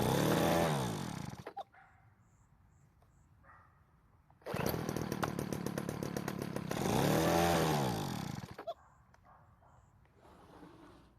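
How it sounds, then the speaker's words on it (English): A vintage Weedeater leaf blower's small two-stroke engine fires up in loud revving bursts, dying back between attempts, then roars for several seconds before sputtering down again. "let's put some fuel into the tank and then try starting it"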